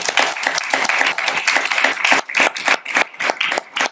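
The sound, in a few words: audience applause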